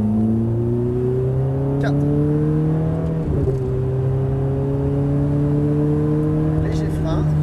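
A Ferrari F430 engine pulls at full throttle on track, its tone rising steadily through the revs with a brief dip at a gear change, loud and close, while an instructor speaks over it in French.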